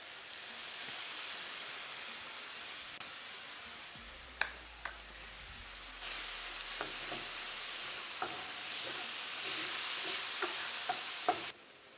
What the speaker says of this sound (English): When your tomatoes have about a minute left, add in your balsamic vinegar.